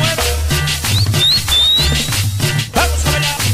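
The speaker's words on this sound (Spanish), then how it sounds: "Échame un chiflido güero." A person whistles short rising notes over loud sound-system music with a pounding drum at a street event in Colonia Cuauhtémoc. The whistles are brief and sit on top of the music.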